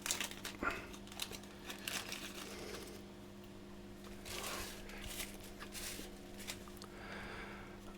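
Plastic bags from a Trumpeter 1/200 scale Sovremenny model kit crinkle and rustle as they are handled, in irregular bursts close by, fairly quiet with no talking.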